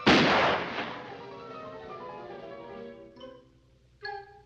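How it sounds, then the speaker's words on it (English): A toy pistol fires in a 1954 Looney Tunes cartoon: one loud, booming shot rings out and decays, followed by two smaller pops, with no talk. "Finster's gonna shoot Big Bad Guy Rabbit with his toy pistol"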